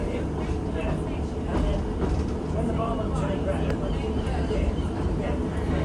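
A passenger train in Cornwall heading toward Newquay rumbles along with a steady, loud onboard drone and faint clicking from the wheels, unbroken from start to finish.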